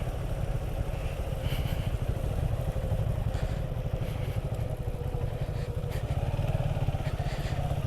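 A motorcycle rides out to a char on the Padma river near the Mawa toll plaza, its engine giving a steady, close, continuous rumble with road clatter throughout.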